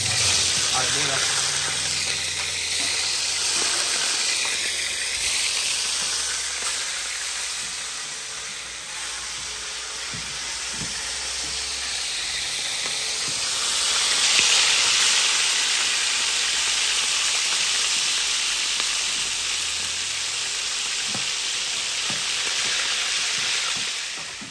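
Chicken andouille rougail frying in a pot, a continuous loud sizzle and hiss with occasional stirring scrapes, while people talk in French over the cooking.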